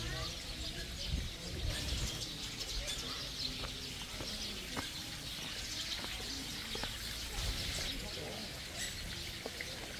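Pigeons coo softly on a farm in Tagaytay among other chirping birds in the background, with people talking nearby.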